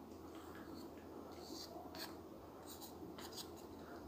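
A pencil scratches rough marks onto paper wrapped around a small figure while making a cape: soft, dry, repeated strokes close by, steady and quiet, with no talking.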